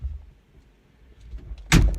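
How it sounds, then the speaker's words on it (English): A car door slammed shut from inside a rideshare vehicle: a quiet cabin rumble, then one sudden, loud thud near the end. "And don't slam the door on your way out."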